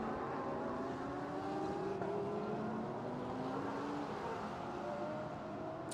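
Porsche 911 GT3 race cars lap the Sepang circuit during a Fanatec GT Asia race, their engines a continuous droning roar with rising pitch as they accelerate, heard from a distance.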